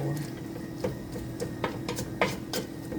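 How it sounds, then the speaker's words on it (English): Chicken being stirred in a pan for a peanut sauce dish gives light intermittent scraping and clinking of utensil on metal, soft and irregular against a steady low kitchen hum. "So just keep an eye on it and keep stirring it."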